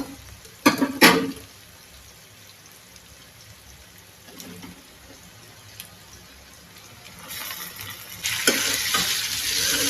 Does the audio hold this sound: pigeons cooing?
no